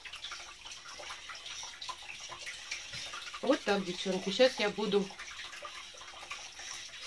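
Water runs steadily from a tap while a woman rinses a Faberlic pore-cleansing face mask off her skin, a soft continuous splashing that swells with louder bursts midway, with her talking over it at the start.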